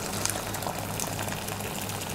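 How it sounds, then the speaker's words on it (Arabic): Boiling water pours from a kettle onto meat in a home kitchen, a steady, close, hissing and bubbling splash that runs without pause and with no talking. "هنحط عليها الميه مغليه من الكتل"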